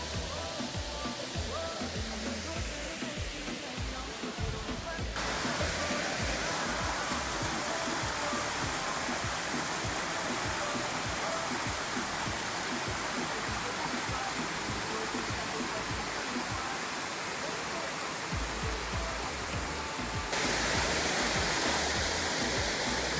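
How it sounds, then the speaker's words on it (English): A waterfall in El Yunque rainforest, Puerto Rico, roars steadily nearby, a dense broadband rush of falling water that fills the whole scene without pause. "This is one of the waterfalls."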